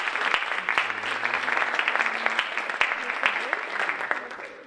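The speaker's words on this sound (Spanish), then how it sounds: "a la que pienso que debemos dar otro aplauso" Dense, steady applause from a crowd, sustained clapping throughout with no pauses, fairly close and loud.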